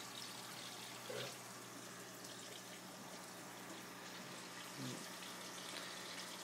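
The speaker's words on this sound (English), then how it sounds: "the other grow bed is, the siphon effect is kicking in" Water drains steadily through the siphon of an aquaponics grow bed fed by a very slow drip, a faint continuous rushing trickle with a couple of soft gurgles.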